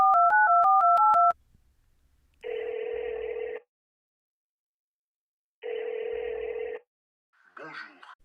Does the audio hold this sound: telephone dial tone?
yes